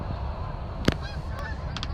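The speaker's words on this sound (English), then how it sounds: "More geese." Geese honk from a distance, with one sharper honk standing out among scattered calls over an outdoor rumble.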